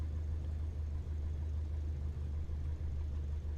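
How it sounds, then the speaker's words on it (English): Aircraft engine in Microsoft Flight Simulator 2020 after landing, a steady low droning hum that runs evenly without pause, moderately loud and alone. "Let's get some fresh air and hear those beefier engine sounds."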